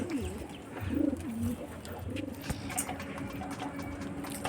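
Pigeons coo while feeding outdoors, with low, throaty coos near the start and scattered softer calls over a hissy, noisy outdoor background.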